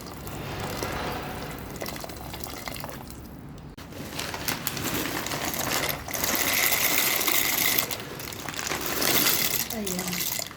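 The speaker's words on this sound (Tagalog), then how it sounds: "Nilalagyan ko ng makulong tubig" Hot water is poured into a cooking pot while making soup, giving a steady rushing, gushing flow that swells louder toward the end, close and continuous.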